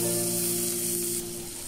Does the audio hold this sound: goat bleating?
no